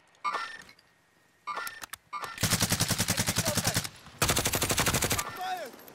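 Automatic AMAX rifle fire in a video game battle royale match, heard as two short early bursts and then two long, loud, rapid sustained volleys with brief gaps, close and dominant.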